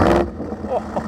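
A BMW E70 X5 4.8i SUV with its N62 V8 and a muffler delete rumbles low and close, with a brief louder burst at the start before settling into a steady idle beneath speech.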